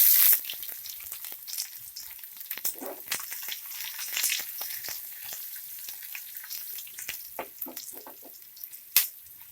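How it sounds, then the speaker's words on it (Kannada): Crushed garlic frying in hot oil with popped mustard seeds and cumin, a steady close sizzle with scattered sharp crackles and pops, plus a few spoon scrapes against the pan. "ಸ್ವಲ್ಪ ಫ್ರೈ ಆಗಲಿ ಬೆಳ್ಳುಳ್ಳಿ"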